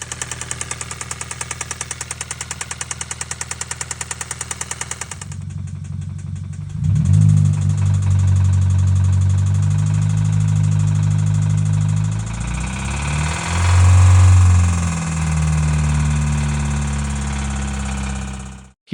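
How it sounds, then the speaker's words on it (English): A Hyundai 1.6 GDI engine with a spun rod bearing knocks in a loud, rapid metallic rhythm at idle. The knock then gives way to deeper, rumbling revving that swells and fades, close and without talk. "here is a rundown on what a spun rod bearing sounds like on a Hyundai motor."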